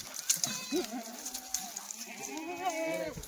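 Kathiawadi dairy goats bleat close by, with several wavering, overlapping calls one after another over a low, noisy background.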